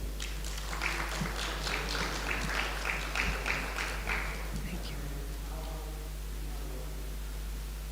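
A summit audience at a Ghanaian fashion business launch claps for about five seconds, a broad steady wash of hands, then it fades out into a low hum with faint voices.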